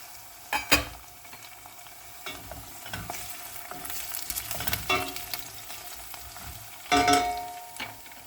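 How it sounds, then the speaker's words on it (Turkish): Vegetables sautéing in a pan with a spoonful of tomato paste, a steady low sizzle under intermittent stirring and scraping, with a few louder clatters of the spoon against the pan. "dört dakika kavrulan sebzelerimin üzerine bir yemek kaşığı kadar salça ekliyorum."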